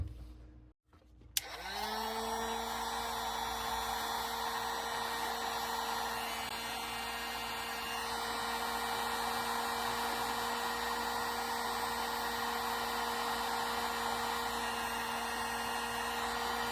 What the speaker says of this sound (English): cheapo Harbor Freight hot air gun